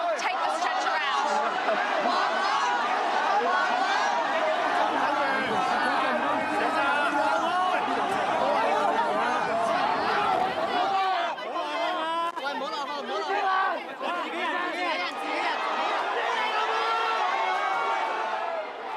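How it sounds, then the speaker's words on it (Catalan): A dense crowd surrounding police at Hong Kong airport, loud continuous shouting and chatter from many voices close by, rising and falling in waves throughout. "La multitud ha encerclat els policies que han vingut a l'aeroport per intentar salvar aquell home."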